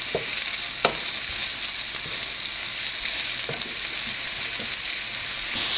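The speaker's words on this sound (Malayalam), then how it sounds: "ഇനി നമുക്ക് ആദ്യം ചതച്ച മുളക് ഇട്ട് കൊടുക്കാം" Crushed chili frying in a pan for a green gram stir-fry, a steady bright sizzle running throughout with a few sharp clicks of stirring, close and fairly loud, with no voices.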